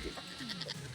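Goats in the video game Moving Out 2 give a short, nasal bleat, close and moderately loud, lasting about a second.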